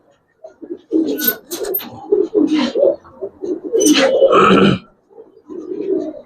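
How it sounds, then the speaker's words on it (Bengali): Deep, throaty coos from big Giribaz pigeons come in short repeated bursts, close by and fairly loud, with brief pauses between calls. "বিগ সাইজ একটা কবুতর।"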